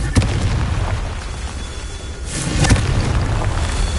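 A Confringo blasting spell bursts in Hogwarts Legacy, a sharp explosive boom followed by a rumbling roar, then a second heavy blast with a swelling, crackling tail.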